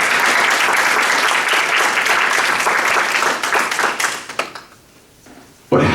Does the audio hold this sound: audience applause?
yes